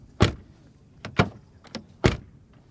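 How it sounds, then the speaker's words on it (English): Car doors on an all-new 2020 Porsche 911 (992 Carrera) shut in a sequence of three or four fairly close thuds, each with a short latch click, spaced about a second apart in a quiet setting. "what about the door closing sound?"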